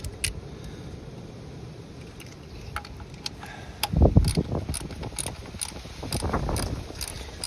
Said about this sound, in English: I'm going to tighten each one a little bit first, so I'm getting it even on the seal